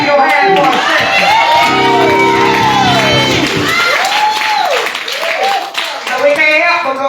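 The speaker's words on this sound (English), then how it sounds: "Somebody clap your hands for ascension." A church congregation at an Ascension service claps and cheers loudly and continuously, with shouts and whoops rising over the applause while voices call out throughout.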